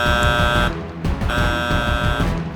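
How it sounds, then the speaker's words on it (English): A cartoon alarm sounds at a rescue lookout: a loud, steady buzzing horn-like tone that blares continuously, with short dips near the one-second mark and again near two and a quarter seconds. "At the lookout, George's accident had been seen and the alarm raised"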